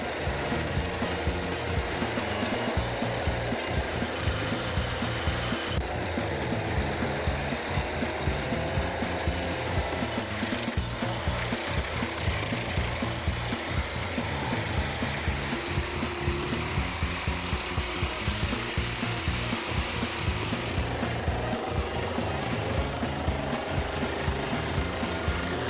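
A large Pezzolato PTH 1400/820 industrial wood chipper shreds wood, giving a dense, continuous roar of engine and grinding. The sound stays unbroken and fairly loud throughout, with no talking.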